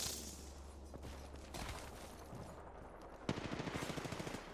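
Rapid automatic gunfire aimed at the player in a competitive ranked shooter match, a dense burst of shots ending in a louder, evenly spaced volley of close cracks.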